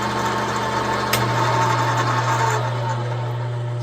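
A machine chuck spinning a tap during threading work in a garage, a steady motor hum with a sharp click near the start, then a continuous low drone holding at close range.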